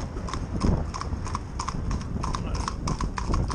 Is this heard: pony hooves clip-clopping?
yes